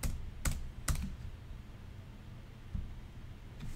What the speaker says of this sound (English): hit my space bar again